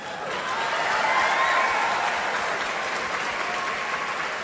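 Applause from a live audience at a spiritual talk in Kurnool, steady broadband clapping that swells early and holds evenly throughout, with no speech over it.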